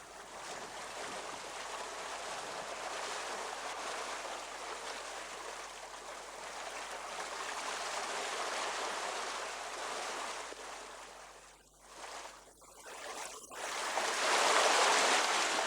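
Strong tidal flow rushing past the anchored boat Fantasea in a channel at Aldabra, a steady broadband watery rush with brief dips near the end, then a brighter surge.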